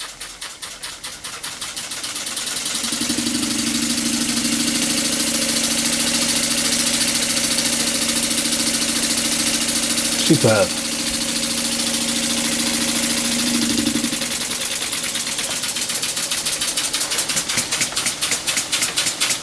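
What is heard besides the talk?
model steam engine running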